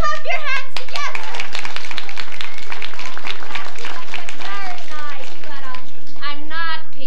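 Audience at a children's stage production of Cinderella clapping hands together, a dense burst of many claps mixed with excited children's voices and chatter throughout.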